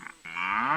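A cow moos once in a cartoon story set in an Indian village, a short rising then sustained low bellow, clear and close with no speech over it.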